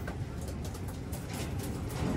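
A returning pigeon named Puti coos softly, faint low calls against a steady background hiss.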